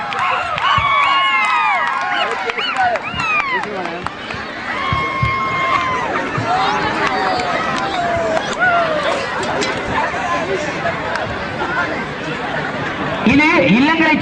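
A crowd cheers and shouts at a school fancy dress competition, with children's excited calls and chatter layered over steady applause, loud and sustained throughout, building again near the end.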